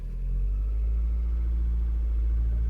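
A 1993 Toyota Corona car engine runs steadily as the car creeps forward in first gear, a continuous close, low rumble with no change in pitch and no voices.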